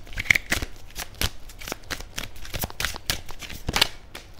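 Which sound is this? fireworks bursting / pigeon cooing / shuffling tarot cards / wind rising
shuffling tarot cards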